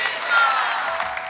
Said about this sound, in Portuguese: Vamos aplaudir São José?